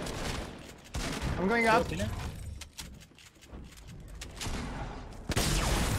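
Gunfire rings out in a Fortnite Battle Royale match, sharp bursts of in-game shots scattered across a few seconds while players talk excitedly over the top.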